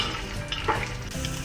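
Peanuts and curry leaves roasting over a high flame for crunchy kurmura, giving a steady close sizzle with occasional stirring scrapes and small crackles throughout.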